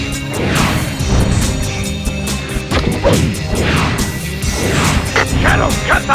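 In the Shadow the Hedgehog video game, robots get smashed in the Cryptic Castle dark mission, with repeated loud crashes and whacks over dense game music and effects while character voices talk throughout.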